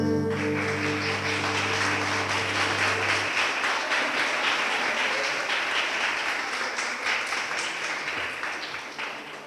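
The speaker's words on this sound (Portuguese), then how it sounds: "Aplauda ao Senhor." A church congregation applauds the Lord during a service, a broad, dense clapping that holds steady over organ-like sustained tones at the start, then slowly tapers toward the end.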